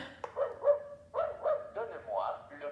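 A dog barks several times in a room during a board game, short yappy barks in two loose groups with brief whimpering tones, fairly close and mixed with people talking.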